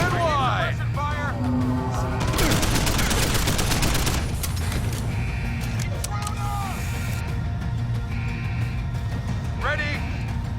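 Gunfire in Deus Ex: Human Revolution, a dense burst of rapid shots crackling for about two seconds amid ongoing combat noise, with voices calling out before and after.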